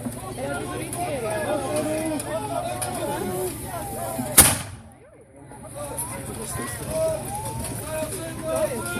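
A single sharp gunshot cracks out at a castle festival reenactment, cutting through steady crowd chatter and murmur that briefly drops away right after the blast before resuming.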